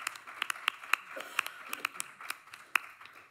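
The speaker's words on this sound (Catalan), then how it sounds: "un fort aplaudiment per Nan Marí" A small audience at a poetry reading in Barcelona claps for a poet, with sparse, distinct hand claps ringing out at irregular intervals in a quiet room, fairly faint overall.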